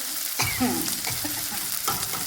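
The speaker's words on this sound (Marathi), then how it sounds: "जिरं टाकलं आणि कांदा हिरवी मिरची लगेच कारण तेल गरम झालं" Cumin seeds, chopped onion and green chilli hitting hot oil give a sudden burst of sizzling and crackle, and a couple of quick stirring scrapes follow close by.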